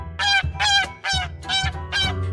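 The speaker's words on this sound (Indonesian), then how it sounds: "Soang bahasa Inggrisnya goose." A goose honks five times in a steady rhythm, each call loud, close and nasal, standing alone without talk.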